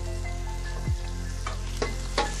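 Sliced onions and green chillies sautéing in oil for biryani, a soft sizzle over a low steady hum, broken by three distinct stirring scrapes; no speech.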